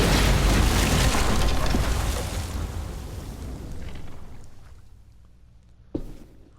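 A video game bomb explosion in The Walking Dead: The Telltale Definitive Series: a heavy boom fades into a long rumbling roar that gradually dies away, followed by a single sharp thud near the end.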